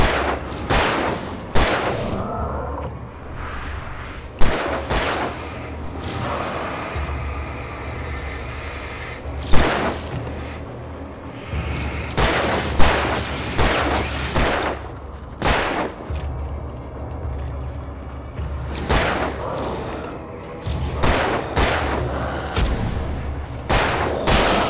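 Repeated gunfire in the video game Alan Wake Remastered, loud sharp shots in irregular bursts and single cracks over a steady low rumble of ambience throughout.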